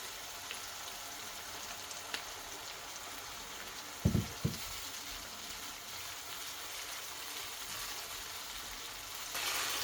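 Onions frying with tomato sauce in a pan, a steady soft sizzle running throughout with a couple of brief clattering knocks midway, fairly faint and even.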